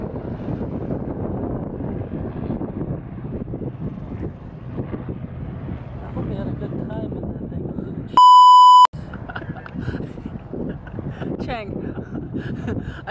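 A single loud, pure-tone censor beep cuts in for about half a second amid steady wind noise and engine rumble aboard a plane, with talking before and after.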